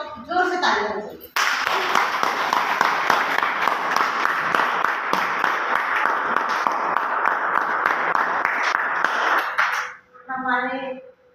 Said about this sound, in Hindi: तो अपने लिए सब जोर से तालियां बजाइए।